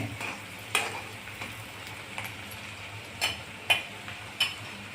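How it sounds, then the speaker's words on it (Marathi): Onions sauté in a pan for tomato semolina upma, with a soft steady sizzle under several sharp clicks of a spoon scraping and tapping against the pan, close by and with no talking. "छान गुलाबी कलर येईपर्यंत परतून घेणे."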